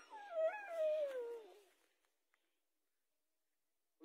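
A dog howls close by in a long wavering rising-then-falling cry that fades out, followed by near silence with a tiny click and a sudden faint sound at the very end.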